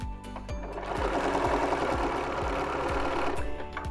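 A sewing machine stitches binding onto a quilt edge, running steadily with a rapid even whir and a regular thumping pulse, close and alone.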